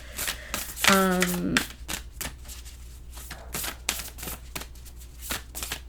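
Tarot cards being shuffled close up, a quick run of papery riffles and soft flicks and taps continuing for several seconds, with a brief spoken word early on.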